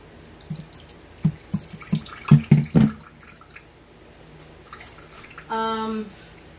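Blended cucumber puree is poured through a strainer into a pitcher, giving a few wet drips and splashes, then a brief trickling pour, quiet and close, with a short tonal sound near the end.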